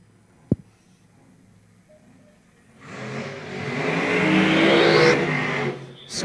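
Supercharged fuel-injected drag racing cars, a Chrysler Hemi and a big-block Chevy, launch at a drag strip. A sharp crack is followed by a loud, sustained engine roar that swells and holds for several seconds, then cuts off.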